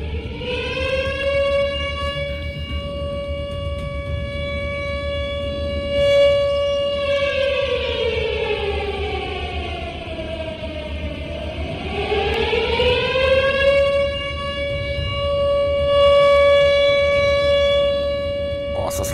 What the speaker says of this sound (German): Die Sirene ist aus.